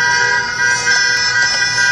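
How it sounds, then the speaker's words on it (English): Cars, including Toyotas and Hondas, honk their horns in praise in a church gathering outdoors, with sustained, overlapping horn tones blaring loudly and steadily the whole time. "honk your horn in praise."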